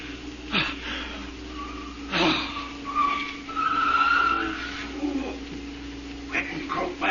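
A car skids to a stop in a radio drama, with a harsh tire squeal swelling and fading in several bursts against a steady engine hum.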